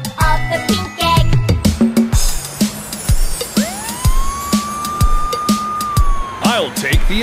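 Toy ambulance siren from a children's surprise-egg play session, a loud electronic wail sounding over busy, bouncy music and a child-directed voice singing along.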